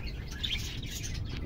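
Pet finches in a home aviary with breeding pairs, giving soft, continuous high chirps and twitters close by, no voices.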